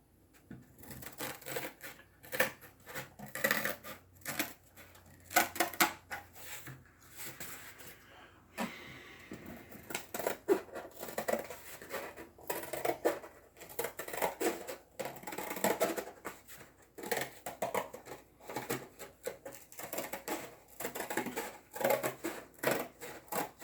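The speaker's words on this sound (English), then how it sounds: "So now you want to take your scissors and you want to cut on these lines here." Scissors snipping along drawn lines to cut out a paper game board for the Royal Game of Ur, faint irregular crisp cuts and rustling paper spread over about twenty seconds, close and quiet.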